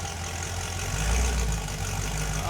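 The engine of a Rotsun car idles steadily after being revved, a close and continuous low rumble that swells slightly in the middle, with no talk.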